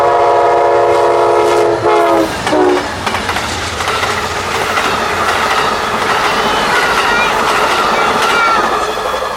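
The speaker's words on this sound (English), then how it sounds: "The high green on Track 1 was for Amtrak 91 coming eastward out of its Tampa station stop." Amtrak 91 passenger train leaving a Tampa station stop, its horn blaring loudly for about two seconds before the train rolls past close by with a steady, loud rumble and rail clatter.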